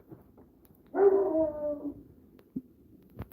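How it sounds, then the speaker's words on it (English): A single loud dog bark with a slightly drawn-out, whiny tail, followed by a few faint knocks in a quiet room. "That's my dog barking."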